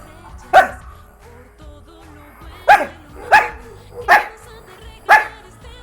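A dog barks five times, loud and close: a single bark, a pause of about two seconds, then four evenly spaced barks roughly a second apart, with quiet background between them.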